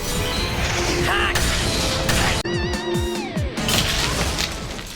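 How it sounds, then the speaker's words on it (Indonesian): A fist smashes into a magic ice wall amid dense crashing, whooshing impacts and rumbling booms, loud and continuous, with a sharp break midway followed by more heavy hits and descending effects. "Akatsuki pun tidak peduli dan langsung saja menghantam dinding es itu."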